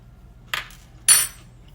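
A spoon clinks against dishes in a home kitchen while chicken and dressing is being made. Two short, bright metallic taps ring out about half a second apart, close up in a quiet room.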